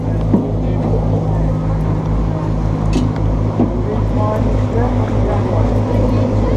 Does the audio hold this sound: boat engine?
yes